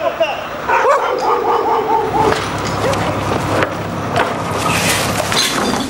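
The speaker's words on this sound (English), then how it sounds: "avoiding that worldwide dustman hazard, the neighborhood dog." Neighborhood dog barking and yipping in a Brazilian city street, several sharp barks near the start, then a steady background of outdoor noise with a voice talking over it.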